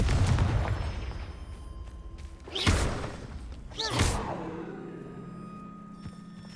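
In the Hogwarts Legacy video game, a Confringo fire spell goes off as two quick whooshing blasts a little over a second apart, each ending in a thudding explosion that fades into a low rumble.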